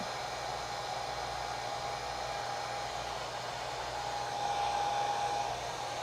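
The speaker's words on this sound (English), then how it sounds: "I'm gonna take my little blow dryer here." A small blow dryer blows over wet acrylic paint on a canvas, a constant airy roar with a thin whine that fades and returns, held close for about six seconds with no voices.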